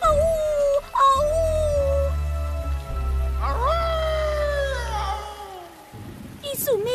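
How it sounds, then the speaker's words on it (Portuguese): A cartoon dog howls in long rising and falling wails over a sustained musical backdrop, with a short whimper-like break and a sharp sound at the end. "Por favor, Rocambole, uive, uive."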